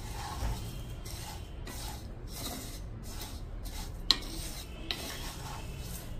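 Vermicelli roasting in a little oil in a pan, with soft repeated scraping and stirring strokes and a faint sizzle underneath, close and fairly quiet, with a couple of sharp utensil clicks.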